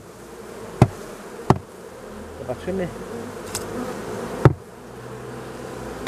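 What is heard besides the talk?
honeybee swarm buzzing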